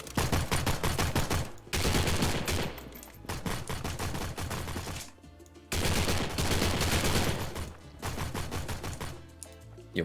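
Rapid automatic gunfire rattles in Postal 4, loud dense bursts of fast shots separated by short pauses, with a few single shots and brief gaps between volleys.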